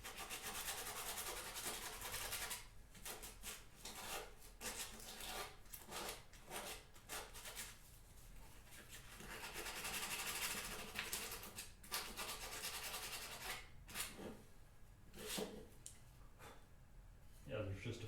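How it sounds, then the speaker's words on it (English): A rasp files down a wooden backsaw handle, stripping old shellac in repeated strokes that come in irregular bursts with brief pauses. The scraping sits close and fairly loud. "Yeah, there's just a few places I need to rasp"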